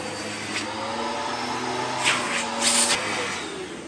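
An Electrolux or Morphy Richards vacuum cleaner runs steadily with its brush bar turning, a continuous loud whir with a couple of brief louder surges near the end.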